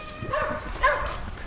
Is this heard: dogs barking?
yes